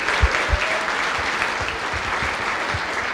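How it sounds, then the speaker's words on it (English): Audience applause for the officers of an association at a fall meeting, a steady wash of many hands clapping with a few sharper nearby claps standing out, continuous for the whole stretch. "I would like very much that you give a round of applause to your officers of your association who worked so hard to make this work."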